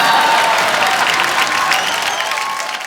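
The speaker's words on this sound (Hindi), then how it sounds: "एक बार अभिषेक भाई के लिए जोरदार तालियां हो जाए।" Studio audience applause for guest Abhishek on The Kapil Sharma Show, a dense, steady wall of clapping with some crowd noise, loud and continuous before easing slightly toward the end.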